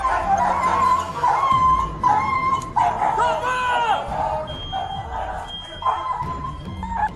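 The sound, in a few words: injured police K-9 dog whimpering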